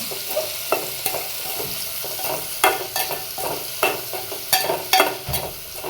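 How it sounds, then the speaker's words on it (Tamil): Food with onion being stirred and mixed in a sizzling frying pan, a steady fry hiss under repeated scraping and clacking strokes of a utensil, close and fairly loud, no talking. "நல்லா கலந்து விட்டுக்கோங்க."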